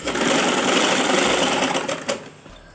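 A sewing machine runs steadily while stitching piping onto a bridal dupatta edge, a continuous close whir with a brief slowdown near the end before stopping.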